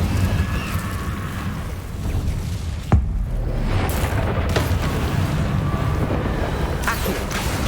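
Fire spell cast in Hogwarts Legacy, a sharp bright crack followed by a rumbling burst over a steady dense bed of game noise and low booms, with a few other impacts scattered through.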